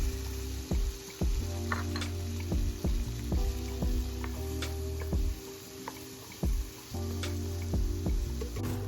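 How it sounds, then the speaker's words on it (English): Spices sautéing in a hot pan for shrimp fried rice, a steady oily sizzle with scattered pops and clicks of a utensil, close and continuous with no talk. "In a hot pan, let's saute all of our spices."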